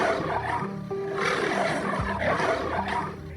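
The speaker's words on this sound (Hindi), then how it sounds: "तभी उसे शेर की आवाज सुनाई दी।" A lion roars in an animated jungle moral story, a drawn-out growling roar mixed with background music.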